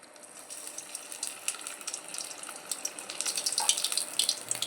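Food being slid gradually into hot oil in a small home kitchen, a soft hissing fry that builds and crackles more densely toward the end, close and fairly quiet.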